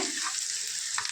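Chopped onions sizzling in hot oil as they are stirred in a pan while cooking upma, a steady close frying hiss with brief scrapes of the spoon.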